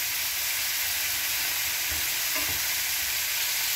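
Yellow squash and zucchini fry in a pan with a loud, steady, close sizzle, a couple of faint stirring knocks cutting through the constant hiss.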